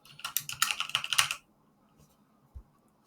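Fingers rattle quickly across a computer keyboard in a brisk burst of close, crisp key clicks for about a second, followed by near silence with one faint soft thump.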